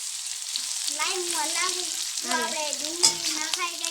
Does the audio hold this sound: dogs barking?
no